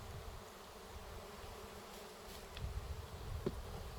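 Steady close buzzing of many honeybees being installed into a hive, a continuous hum with a few individual insects droning past.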